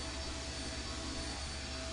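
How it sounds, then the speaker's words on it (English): Steady engine drone from a zeppelin in the video game I Have No Mouth, and I Must Scream, a dense continuous roar with a low rumble and faint hum, constant in loudness throughout with no voices. "The engine's starting up again."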